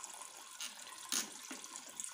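Water running and trickling from a leaking toilet flush cistern whose flush valve lets water keep flowing; a quiet, steady faucet-like flow with a few brief splashes, no voices.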